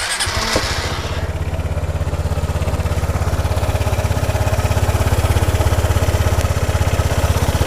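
A Vespa GTX 300 scooter engine catches after a brief starter whir and settles into a steady, smooth, close idle with an even pulsing throb, no voices.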